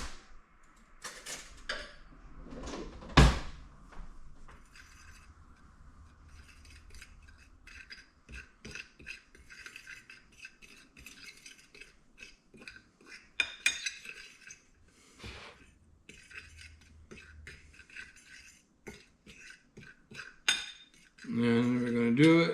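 A spoon stirs beef stew in a metal pot, with scattered clinks and scrapes against the pot sides at an irregular pace, one sharp louder knock early on, and a brief burst of louder noise at the end.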